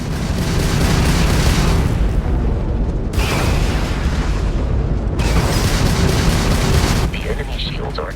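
Spaceship combat in Starfield: dense, sustained weapons fire and booming explosions roll on loudly for the whole stretch, with brief drops between bursts.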